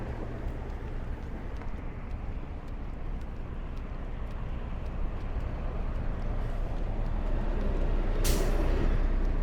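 Buses circling near a bus depot on Cropsey Avenue in Brooklyn, a loud continuous engine rumble with traffic noise building, and a sharp hiss of air brakes near the end.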